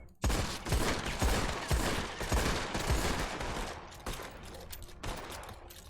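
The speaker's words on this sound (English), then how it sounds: "I ask you to draw revolvers and shoot all 6 shots" A volley of revolver shots, six from each shooter at a memorial, crack out in rapid, overlapping bursts that fade into scattered later shots, loud and outdoors with no talking.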